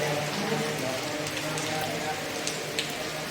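Steady rain patters on a surface, a continuous soft hiss with occasional distinct drops, fairly faint and even.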